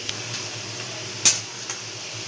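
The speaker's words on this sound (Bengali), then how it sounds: "এবার আমি এটা বটবটি ভাজার সঙ্গে মিশিয়ে দেবো" Fried potatoes and bori are stirred together in a pan: soft, steady scraping with a faint sizzle underneath and one sharp utensil clank midway.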